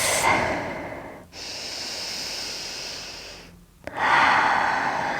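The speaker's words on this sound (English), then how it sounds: "One more deep breath." Slow, deep breaths during a yoga session, a long airy inhale and exhale filling the clip, with a brief pause before another strong, close breath.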